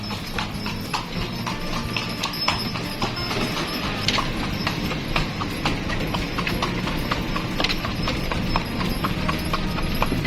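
Horse hooves of a delman carriage clip-clop steadily along a street in Yogyakarta, a continuous close rhythm of hard strikes over light traffic and street ambience, with no talking.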